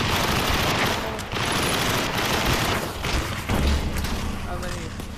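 Rapid bursts of gunfire from the VR shooting game Aim Xr fill the clip, dense and loud, with a person talking over the shots.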